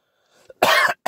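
Two quick, loud coughs up close, the first harsh and sustained, the second short, after a faint breathy intake.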